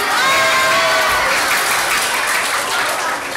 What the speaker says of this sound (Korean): 자, 우리 새로운 친구가 있어요. 박수.